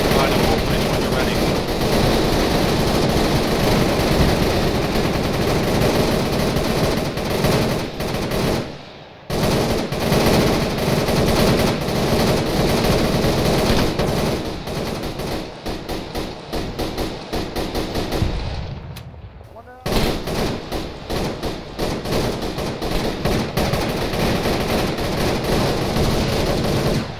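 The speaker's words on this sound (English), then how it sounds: "We're providing a base of fire on our elevation right now to the towers and defenses" Sustained heavy gunfire lays down a base of fire on towers and defenses in a combat setting, loud and continuous with rapid repeating bursts, briefly cutting out twice before resuming.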